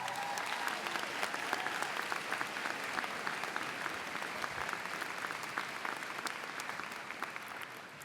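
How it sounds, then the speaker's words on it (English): A large audience at a community college commencement claps in sustained, even applause for about eight seconds. The sound is fairly distant and carries no speech. "Let's give them a round of applause"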